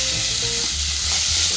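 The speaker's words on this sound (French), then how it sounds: "Alors on va faire revenir les oignons" Chopped onions frying in olive oil in a saucepan, a loud close steady sizzle with faint stirring scrapes and no voices.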